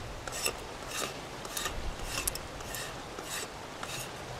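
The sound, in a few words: scraping wet outer layer off wood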